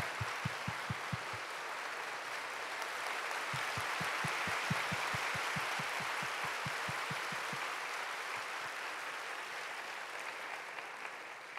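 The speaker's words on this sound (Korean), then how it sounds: "김태훈 목사님과 심정아 사모님에게 큰 박수를 해주시겠습니다." A church congregation applauds a pastor and his wife during a Sunday worship service. Sustained, full-room clapping runs throughout, with a rhythmic low thumping that pulses in two stretches beneath it.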